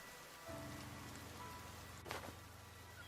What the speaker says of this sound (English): The only time we hear the rain change to go back to the way it was is when we leave the structure.